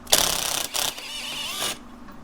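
Ratchet driving a 9/16 socket to loosen a linkage bolt on a Polaris Sportsman 700 ATV, a close, rapid clicking burst followed by a second shorter run and a longer steady grind before fading.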